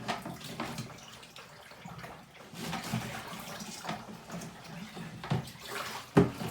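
Wash water from a raw Shetland sheep fleece is dumped out of a tub, a continuous close splashing and gurgling pour that swells and eases in uneven surges, ending with a sharper splash.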